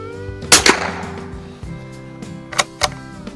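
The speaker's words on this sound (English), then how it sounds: "So I'm going to shoot this at the lower right target of my six bullseye target here." Federal Auto Match ammunition fired at a bullseye target: sharp, loud reports with a quick double crack early on and two more a couple of seconds later, over low background hum.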